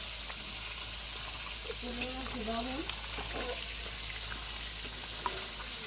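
Spices with onion, turmeric, ginger, chili paste and cumin paste sizzle softly in oil in a home kitchen, a steady low frying hiss with occasional stirring clinks and a voice faintly in the background.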